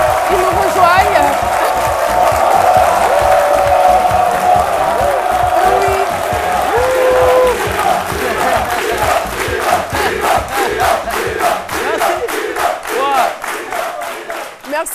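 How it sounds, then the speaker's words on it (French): A French midday TV talk-show studio audience applauds and cheers loudly as guests join the set, with whoops over a dense, steady mass of clapping that fades into rhythmic clapping toward the end. "Vous pouvez vous applaudir en vous asseyant"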